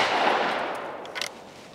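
A single Krieghoff K80 shotgun shot fired at a clay pigeon, one sharp blast that decays into a short fading tail, followed by a faint brief clatter.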